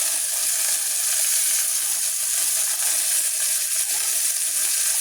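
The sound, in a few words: mixing white cheddar into simmering chicken alfredo sauce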